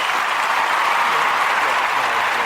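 Studio applause on a podcast, a loud, dense, continuous wash of clapping from a crowd, close and unbroken throughout, with no talking over it.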